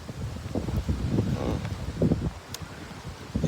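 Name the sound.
strong wind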